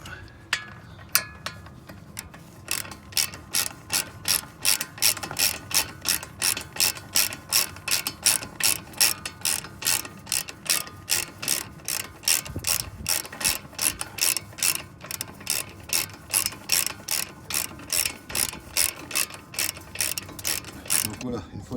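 Rapid ratchet wrench clicking in a steady run of dozens of sharp, evenly spaced bursts while wheel bolts on an Audi Q7 are tightened during a front brake disc and pad replacement, close and loud with no talk.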